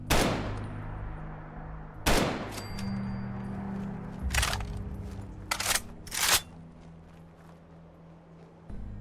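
Gunshots in the video game Fallout 4, about six sharp loud cracks spaced irregularly over a quiet background, some fired in quick pairs.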